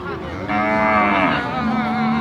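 A cow at a cattle market in Warin, Ubon Ratchathani, gives a long, loud, drawn-out moo close by, rising and falling in pitch over about two seconds.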